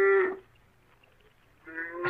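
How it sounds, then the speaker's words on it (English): A cow moos twice, a loud low call followed after a short pause by another, close by with quiet between. "Another cow coming up to get a little company."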